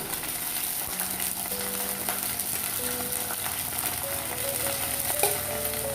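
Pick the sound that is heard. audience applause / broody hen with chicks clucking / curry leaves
curry leaves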